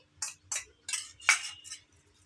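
A spoon stirring ginger chutney with sugar and yogurt in a bowl, five quick scraping clinks in an uneven rhythm, close and alone.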